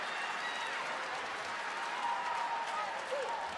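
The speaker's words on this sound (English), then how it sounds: "trying to draw upon this massive crowd here in Philadelphia" A massive arena crowd at a wrestling event in Philadelphia roars and claps continuously, a broad sustained wash of cheering with scattered whistles, heard at a distance under commentary voices.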